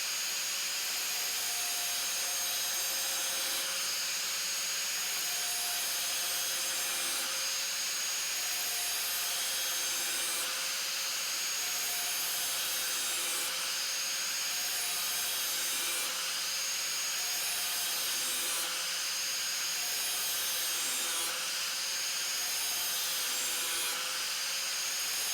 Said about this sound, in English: So I'm going to go over that a couple more times and make sure that the whole cutting edge is sharp.